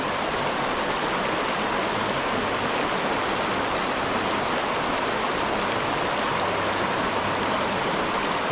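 Water flows in an Ohio creek, babbling and rushing as an even, continuous wash that stays close and loud with no voices.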